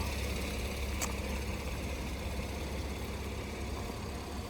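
Low, steady engine hum from a Porsche 911 cruising slowly at about 30 km/h through a school zone, a muffled, even drone with no revving, heard from inside the car without speech.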